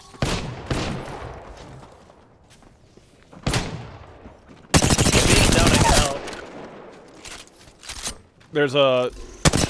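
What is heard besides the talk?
gunfire in the video game Apex Legends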